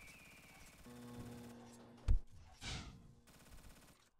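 Sporadic video game gunfire in a shooter match, a few sharp shots and a louder burst around the middle against a low background hum, fairly quiet overall.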